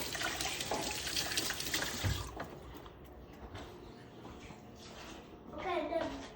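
Water runs from a household tap into a sink for handwashing, a steady close splash that fades midway and then picks up again, while a child and an adult talk over it.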